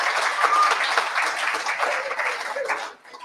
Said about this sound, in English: Can we give another round of applause for Devin Allen